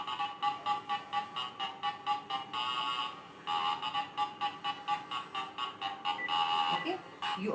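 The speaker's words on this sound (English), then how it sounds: "you all have heard the ringtone of this phone" A mobile phone ringtone plays as a science demonstration of sound, before the phone is sealed in a jar. It comes through as loud, rapid, evenly pulsing electronic beeps with brief pauses between bursts.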